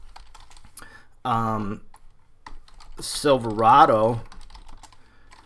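Computer keyboard typing in a car dealer website editor, brief clicks heard faintly under a man's speech.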